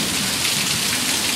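Heavy rain on a stormy day in Lubbock, Texas: a loud, dense, unbroken hiss of downpour on surfaces, close and steady throughout with no voices.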